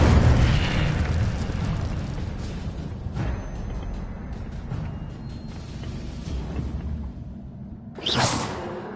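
A fiery Incendio spell blast in Hogwarts Legacy: a rushing, roaring burst of magical fire under dense game noise, ending with a sharp swelling whoosh near the end.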